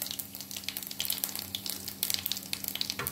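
Sliced onion goes into hot oil with cumin in a kadai for mixed vegetable sabzi, giving a steady crackling sizzle with quick pops and spatters, close and fairly soft.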